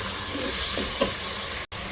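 Mutton tikka with onions frying in a pan, a steady close sizzle with a couple of soft stirring scrapes.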